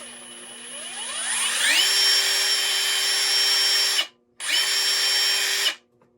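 A Metabo HPT 36V cordless impact driver on speed setting 2 spins up with a rising whine, holds a steady high-pitched buzz, stops briefly, then runs again at the same fast pitch.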